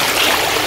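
A river in Isabela province flows steadily, a loud, close, continuous rushing wash of water with no talking over it.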